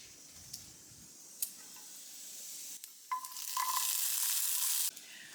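Black beans and peppers cooking in a pan: a steady sizzle swells after a few seconds as the beans go in, with a few stirring clicks and knocks, fairly close and with no talking.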